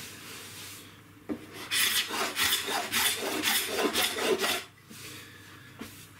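Rapid rasping strokes of a scraper on wood, a steady run of close, scratchy passes with brief pauses, a few light knocks at the start and end.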